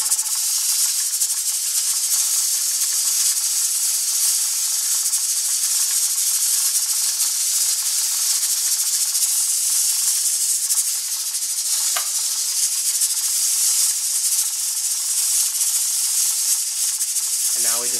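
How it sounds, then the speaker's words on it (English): A pressure canner processing deer meat hisses steam in a steady, bright, close-up stream, with faint rattles from the rocking weight running underneath and a short clatter near the end. "If it starts rocking too much, that means the pressure's too high."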